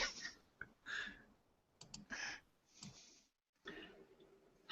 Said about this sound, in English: I'm typing in to the event